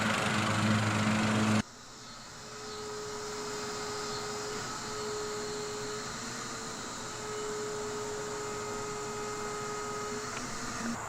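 A string trimmer engine with a fault that makes it surge up and down starts running after a loud opening burst, then holds a steady, close mechanical drone with a thin whine. No one speaks.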